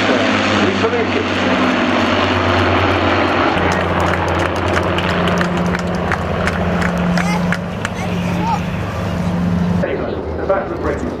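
Avro propeller aircraft of the Battle of Britain Memorial Flight fly over a Scottish and Southport airshow in 2014, a steady loud droning engine hum throughout with crowd noise and talk underneath.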